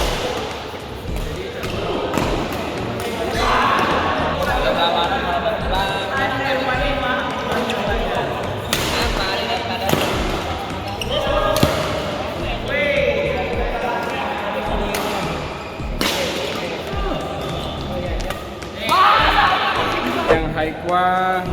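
Sharp, forceful smashes with a Haikwa Challenger Z88 badminton racket, made in Indonesia, crack out every couple of seconds in an echoing hall, over ongoing chatter and court noise.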